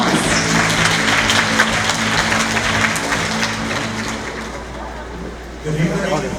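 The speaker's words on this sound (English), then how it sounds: "Give him a round of applause" Audience applause at a graduation closing ceremony, broad steady clapping through most of the clip with a low hum underneath, easing off near the end as a voice begins speaking.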